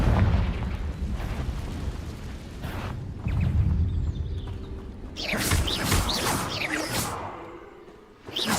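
Repeated Confringo blasting-spell explosions in Hogwarts Legacy, loud booming bursts with whooshes, a dense rumbling run followed by a brighter burst of crackling blasts near the end.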